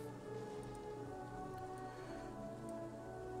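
Rain falling in Vermilion City in a Pokemon video game, a faint, steady patter under a sustained tonal game soundtrack, with no talking.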